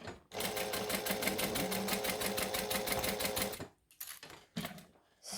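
A sewing machine stitches a handbag with a steady, rapid needle rhythm for several seconds up close, then stops and gives a few short bursts of stitching.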